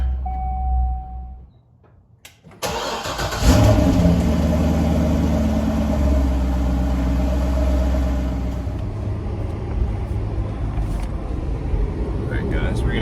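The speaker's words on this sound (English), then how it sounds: "Let's get a little cold start going on the C6, shall we?" Chevrolet Corvette C6 with an LS2 engine cold-starting: a brief crank, then a loud close roar that settles into a high, steady rumbling idle with light revving.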